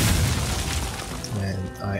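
A Hearthstone minion attack lands as a low, booming impact burst over layered game music and effects, fairly loud and close throughout the short moment.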